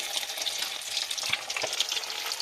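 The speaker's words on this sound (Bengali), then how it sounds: "এবার আবারও আমি কড়াইয়ের মধ্যে দিয়ে বাকিগুলো ভেজে নেব" Chili chicken pieces fry in a kadai with a brief, dense, crackling sizzle and a few soft stirring knocks, close and steady throughout.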